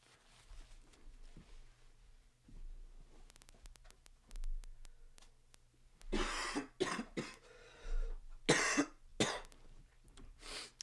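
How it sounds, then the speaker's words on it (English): A few loud, broadband bursts of nose-blowing, one after another, close to the mic, after a quiet stretch with faint clicks and low hum. "Let me blow my nose."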